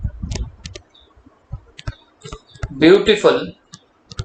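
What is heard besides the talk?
typing on a computer keyboard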